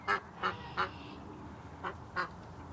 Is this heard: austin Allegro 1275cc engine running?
no